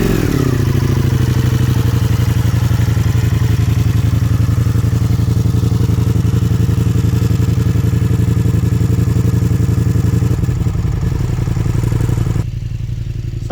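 A 2025 Ducati Pikes Peak idling close up, a loud, deep, lumpy exhaust thrum with a brief blip after starting, settling into a steady rumbling beat before cutting off abruptly near the end.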